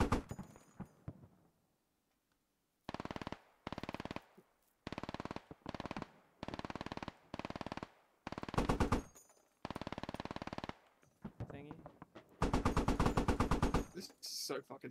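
Heavy .50 caliber gunfire in the military shooter game Squad, fired in repeated long rapid bursts separated by short pauses, loud and close, with a few brief spoken words at the start.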